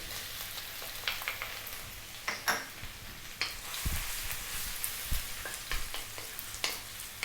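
Ginger and garlic sizzle and fry steadily in hot cooking oil for Filipino chicken sotanghon guisado, with a few clinking stirring strokes in the pan and no talking.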